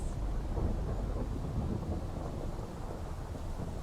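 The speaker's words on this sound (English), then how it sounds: "Nalo strikes with a storm so fierce that Maui is thrown back, defeated" A fierce thunderstorm rumbles as a sound effect in a Moana 2 bedtime story, a steady low roar of thunder and rain-like hiss holding at an even loudness throughout, with no voices.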